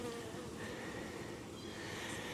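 Honey bees packed inside an opened hive during a split check give a dense, continuous buzzing drone, steady and close, with no talk over it.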